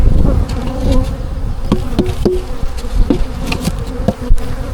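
Honeybees buzz loudly and constantly around an opened hive, a dense, close hum with a few soft knocks and taps from hive equipment scattered through it.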